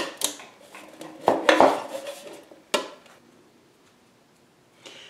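A screwdriver knocking dents into a thin metal Dollar Tree bucket: several sharp, ringing metallic clanks in irregular bursts, close and fairly loud, trailing off into quiet.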